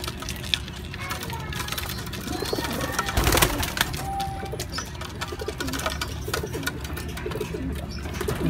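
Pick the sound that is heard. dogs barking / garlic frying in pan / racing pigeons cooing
racing pigeons cooing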